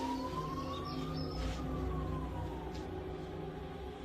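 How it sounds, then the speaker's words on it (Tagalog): A wailing ambulance siren with a clear rising and falling sweep, loud and fairly close over a steady background of traffic-like noise. "Ayun, tama-tama may ambulansya."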